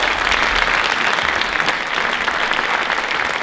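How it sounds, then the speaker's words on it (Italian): An audience applauds at a concert by the Corpo Bandistico Città di Osimo, a dense, even wash of clapping hands sustained throughout. "un applauso va al maestro Emiliano Bastari che ha curato l'arrangiamento di questi brani"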